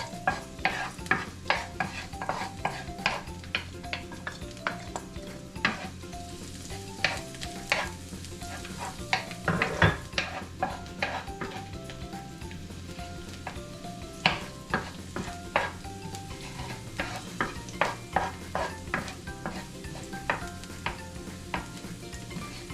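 Garlic sautés in a pan for squid adobo, a soft steady sizzle beneath frequent sharp clicks of a utensil stirring against the pan, close and fairly quiet, without speech.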